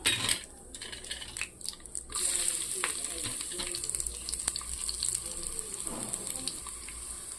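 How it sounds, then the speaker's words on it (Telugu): Tempering for drumstick leaf chutney frying in hot oil, with garlic, cumin and curry leaves, a steady close sizzle with sharp crackles and stirring, opening with a few louder clatters. "ఇప్పుడు మనం తాలింపు వేసుకుందాం"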